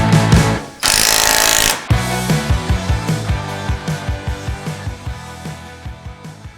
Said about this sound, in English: We will remove this lower bolt in here in the knuckle.